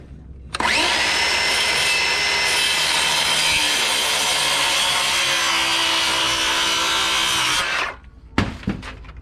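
A wooden rafter being cut off with a power saw during roof framing, one loud continuous whining cut lasting about seven seconds, close by, ending with a few knocks as the piece drops away.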